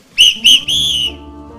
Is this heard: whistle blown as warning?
yes